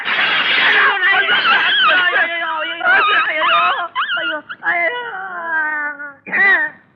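A dog in a Tamil comedy film gives a run of yelps, whimpers and howling cries, loud and close, rising and breaking in several bursts with a final sharp yip after a short pause.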